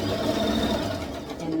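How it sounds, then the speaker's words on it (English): A sewing machine runs briefly and continuously to lock a stitch on a Barbie tutu, a close, fast mechanical whir with a steady rattle. "we're gonna go ahead and lock down and lock the stitch"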